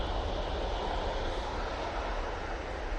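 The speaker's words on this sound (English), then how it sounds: "Lufthansa going back off to Frankfurt now." A Lufthansa Airbus A320neo departs Manchester Airport for Frankfurt, its jet engines producing a steady, loud broadband roar that holds level throughout.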